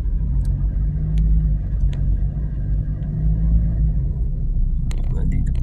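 Slow, heavy traffic on the Skyway elevated road, with a steady low rumble of car engines and road noise throughout, a few brief clicks and knocks, and someone speaking over the din.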